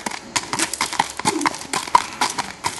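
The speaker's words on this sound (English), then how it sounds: "What a nice horse" Hooves of a palomino walking horse mare clip-clop at a walking pace on a trail, sharp close knocks spaced irregularly, with no voices.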